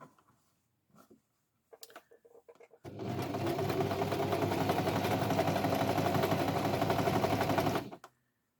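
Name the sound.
sewing machine stitching quilt squares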